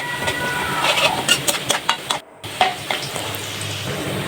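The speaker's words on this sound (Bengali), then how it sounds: "দিয়ে দিলাম 2 কাপের মতো পেঁয়াজ কুচিগুলো ভালো করে ভেজে নিতে হবে" A couple of cups of chopped onion hit hot oil to fry for birista, giving a loud, close sizzle with rhythmic scraping and stirring clatters, a brief drop-out midway, then a steady hiss.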